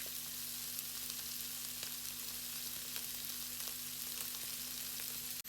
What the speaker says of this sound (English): And just fry it off.